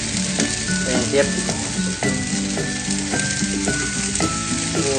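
Food sizzles and crackles steadily in a hot pan, with occasional stirring clinks and a brief spoken word.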